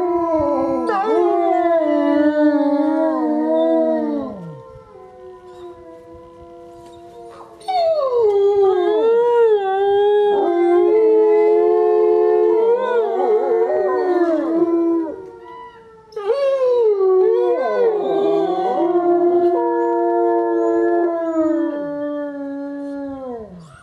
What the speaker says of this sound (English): this is a little bit of a howling clip, and Aiden is howling with the pack as well.